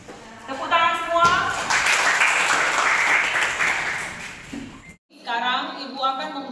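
Classroom applause from students, a burst of clapping lasting several seconds between stretches of a teacher's voice, fairly close and steady before stopping abruptly.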